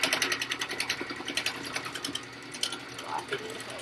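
A sewing machine runs a quick burst of rapid, evenly pulsed stitching while back stitching an N95 mask cover, then slows and stops, heard close up with room noise.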